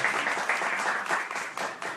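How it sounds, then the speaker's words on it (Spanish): Audience applause in a studio show, a brief steady patter of many hands clapping at moderate distance, with no talk over it. "Un aplauso, ¿eh?"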